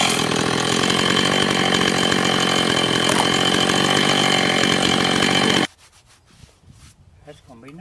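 Loud steady drone of a powered saw cutting into a red oak log, stopping abruptly to leave quiet handling noises.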